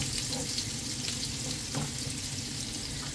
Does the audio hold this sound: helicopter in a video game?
no